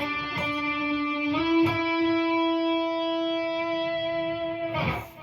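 Electric guitar playing held, sustaining notes that bloom into feedback through an Atomic Amplifirebox 2 amp modeler at modest volume, with a few picked note changes and a clean, ringing tone.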